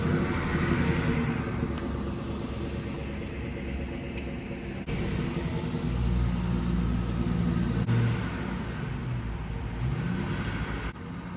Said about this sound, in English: let's pull the car in and see if we can't start fixing some of these issues